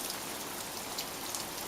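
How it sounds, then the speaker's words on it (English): Water being splashed and poured heavily onto a pet parrot, a dense continuous spray like heavy rain, close and loud with no talk. "I'm just absolutely chucking water in."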